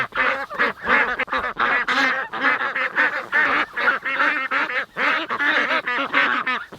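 Geese honk loudly and repeatedly, a dense chorus of overlapping calls close by with no pauses.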